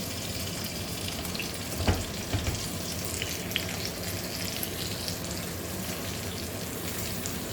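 Fish frying in a pan gives a steady, dense sizzle throughout, with a few soft clinks or taps near the start. No one speaks.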